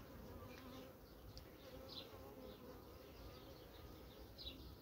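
Honey bees from a colony with plenty of brood, weakened after winter, hum and buzz steadily around the hive, a faint, dense drone with individual bees passing close now and then.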